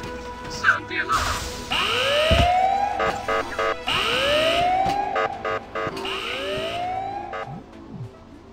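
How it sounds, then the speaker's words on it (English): Rising and falling alarm siren from the Ice Scream horror video game, sweeping upward in repeated wails about every two seconds, loud and continuous, with game noises and a voice mixed in. "Sound the alarm!"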